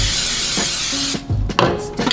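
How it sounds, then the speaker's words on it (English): A short hissing spray from an aerosol can of nonstick cooking spray, a burst of airy noise followed by a few small clicks and taps. "Nonstick spray."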